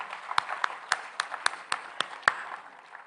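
Audience applause at a leadership summit: about eight sharp, evenly spaced claps ring out over a soft, continuous patter of scattered clapping, moderately distant and without talk.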